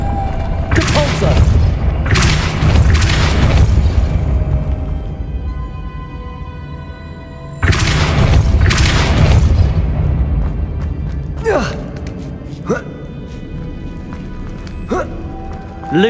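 Depulso spell blasts in the game Hogwarts Legacy, two loud booming bursts several seconds apart with rumbling tails, followed by quieter whooshing effects.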